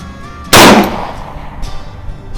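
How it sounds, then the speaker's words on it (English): A single sharp report from a Smith & Wesson Model 1905 .38 Special revolver made in 1908, loud and close, firing offhand at an outdoor range, with its echo fading quickly. "pistol shooting"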